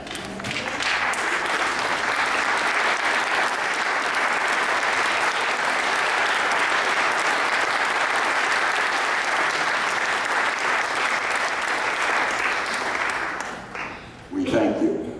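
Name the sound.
audience applauding military veterans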